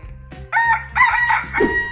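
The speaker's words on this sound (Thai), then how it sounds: "ไก่ดำนั้นจัดอยู่ในกลุ่มไก่พื้นเมือง" A black native rooster crows nearby, a loud drawn-out cock-a-doodle-doo in several rising and falling segments, with soft clucks and faint background hum around it.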